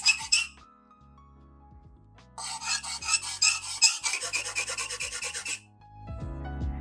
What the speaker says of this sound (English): it tends to make the charcoal make some really horrible, horrible noises